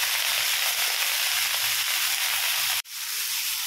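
Onion, cabbage and moong dal frying in a pan, a loud continuous close sizzle with a brief break near the end before the hiss resumes, no talking.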